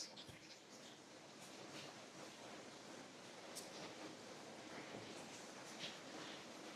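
An underground waterfall, about 30 metres high, pours inside a cave in Japan, giving a steady, dense broadband roar of falling water that holds at an even level throughout.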